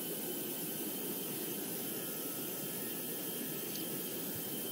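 Airplane engine running at full throttle during takeoff in the flight simulator GeoFS, a steady, loud, unbroken roar with broadband rushing noise throughout and no talking.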